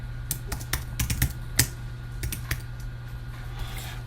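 Fingers tap a computer keyboard in a quick, uneven run of nearby keystrokes over a low steady hum, with no voices.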